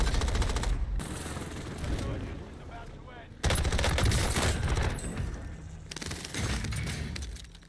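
Rapid bursts of fast-firing CX9 submachine gun fire in a video game, loud and close, in several sustained volleys separated by short pauses, with a voice speaking faintly under the shooting.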